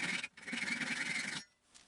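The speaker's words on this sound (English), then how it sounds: "so I'm going to go ahead and cut them off." A handsaw rasps back and forth through protruding wooden dowels on a solid maple king size bed, a steady close sawing burst for over a second that stops abruptly, followed by a faint brief scrape.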